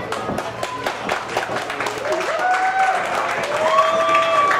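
A wrestling crowd claps for two athletes, scattered applause building into steadier clapping with a commentator talking over it.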